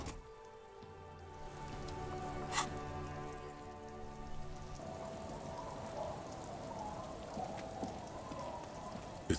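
Rain in the video game Disco Elysium, a steady soft patter that grows fuller after a sustained musical tone fades, with a few sharp clicks over it.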